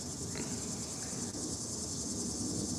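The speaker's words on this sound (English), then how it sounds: "There's a lot of noises going on between the cicadas" Steady, dense buzzing of cicadas fills the air continuously, loud and unbroken, with no voices.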